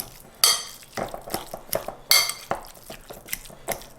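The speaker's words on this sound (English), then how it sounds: "Then I'm going to mix it all up." Keto dumpling filling being mixed with spices and coconut aminos in a bowl: repeated scraping, clinking utensil strokes against the dish at an uneven rhythm, close and clear with no talking.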